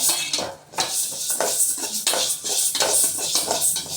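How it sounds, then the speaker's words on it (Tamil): A ladle stirring moong dal as it dry-roasts in a metal pan for spinach kadaiyal, with continuous close scraping and rattling strokes in a quick, uneven rhythm. "பச்சை பருப்பு, அதாவது சிறு பருப்புன்னு சொல்லுவாங்கல்ல, அந்த பருப்பு அதை கொஞ்சம் போட்டுக்கிட்டு கரண்டி வச்சு"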